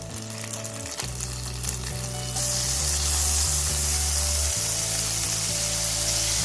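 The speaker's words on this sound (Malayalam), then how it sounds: "ഒരു പാൻ അടുപ്പത്ത് വെച്ചിട്ട് ഞാൻ ഇതിലേക്ക് 2 ടേബിൾ സ്പൂൺ ബട്ടർ ഇട്ട് കൊടുക്കാം" Two tablespoons of butter melting in a pan on a stove, sizzling loudly and steadily, with a low hum underneath and a few light scrapes as it settles; no one speaks.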